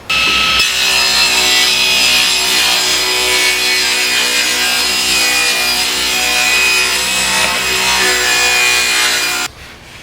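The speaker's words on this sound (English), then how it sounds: "now I'm going to cut up the shelves" Steady, loud sawing through wooden boards being cut into shelves for a gun safe topper storage unit, continuous close strokes running nearly the whole time before stopping abruptly near the end.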